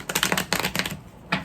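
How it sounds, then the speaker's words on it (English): Quick papery riffling and tapping in a few short bursts, close and crisp, as a deck of tarot cards is shuffled. "I'm gonna shuffle one more time."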